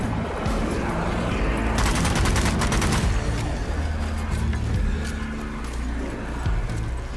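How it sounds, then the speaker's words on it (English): Enemy gunfire in the zombie shooter Zombie Army 4: Dead War, a rapid rattling volley of shots mid-clip amid continuous game noise and low rumbling. "Dang, he's shooting at me."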